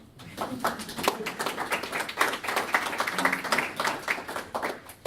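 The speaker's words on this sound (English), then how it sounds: "This is the point we're supposed to clap along with the card." Audience at a tech talk on Git clapping along in a quick, steady rhythm, moderately loud and continuous across the whole stretch, with a few voices faintly underneath.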